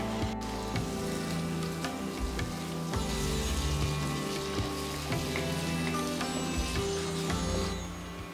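Spice paste cooks in oil with a splash of water in a pan for a katla fish curry with orange. It gives a steady, close, crackling sizzle with no talk.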